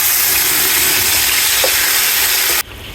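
Onions sizzle in hot homemade desi ghee for a rainy-day paya recipe, a loud, dense frying hiss that runs steadily and then cuts off sharply near the end.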